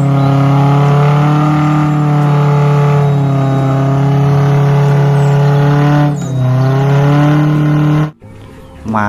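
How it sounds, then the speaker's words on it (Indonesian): An off-road car's engine revs in a loud, steady drone with strong harmonic tones, dipping briefly before stopping abruptly, with no talk over it. "Di sini ada mobil off-road."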